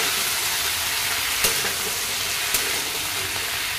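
Tomato frying with golden-brown onions in a pan, giving a loud, dense, steady sizzle with a couple of brief clicks from the spoon.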